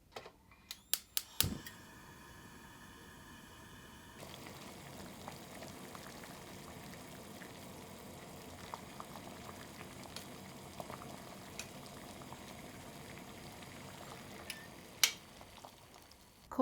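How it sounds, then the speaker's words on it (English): Water boils in a pot for blanching snow peas, a faint steady bubbling hiss heard alone after a few sharp clicks and clatters at the start, with a couple of later knocks. "Quickly boil in solid water."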